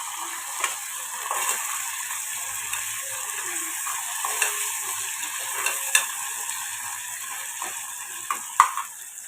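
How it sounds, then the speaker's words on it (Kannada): Food frying in a pan with a soft continuous sizzle, punctuated by scraping clicks of a utensil against the pan, close and alone. "ಅದು ಕೂಡ ಹಸಿ ವಾಸನೆ ಹೋಗೋತನ ಚೆನ್ನಾಗಿ ಫ್ರೈ ಮಾಡ್ಕೊಂಬರಿ"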